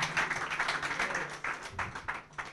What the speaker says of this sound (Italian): Un grosso applauso per Angelo Mangili